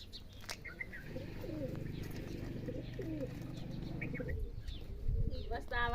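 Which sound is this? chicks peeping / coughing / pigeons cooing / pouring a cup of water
pigeons cooing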